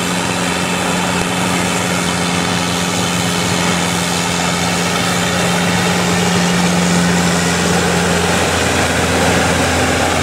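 A Yanmar EF514T tractor engine fitted with a turbo runs steadily and loudly up close, a constant rumbling drone with a faint turbo whine holding throughout.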